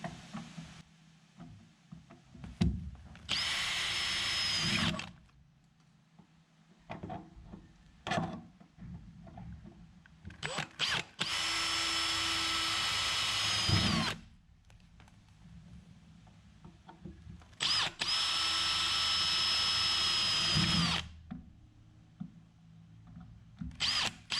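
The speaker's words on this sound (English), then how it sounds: "then we can drill them" Close power drill drilling holes in a fishing boat for seat mounting, running in three sustained bursts of a few seconds each, with knocks and clatter of handling in the gaps.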